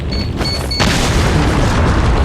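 A loud explosion in the video game Resident Evil 4 erupts under a short high electronic tone, then rolls on as a dense, sustained roar to the end.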